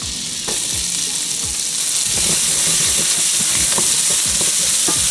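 Shallots and garlic sautéing in unsalted butter and oil, a loud continuous sizzle and hiss with repeated stirring scrapes throughout, no talking.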